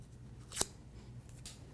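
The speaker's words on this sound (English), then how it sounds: "it just depends on which side of the petal you are running your scissors along" Scissors are drawn along paper flower petals to curl them, producing one sharp close swish followed by a fainter second stroke, quiet and isolated.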